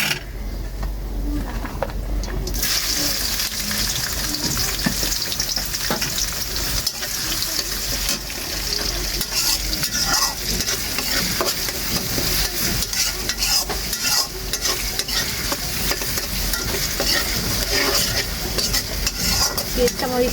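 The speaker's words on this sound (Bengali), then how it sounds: "আদা রসুন বাটা সব মশলাগুলো আমি যেগুলো ব্লেন্ডার করে রাখছি সেগুলো সব দিয়ে কষানো শুরু করে দিই।" Onions sautéing in a pan with ginger-garlic paste and blended spices for a chicken roast give off a steady, close sizzle, with stirring scrapes and clinks running throughout and no talking.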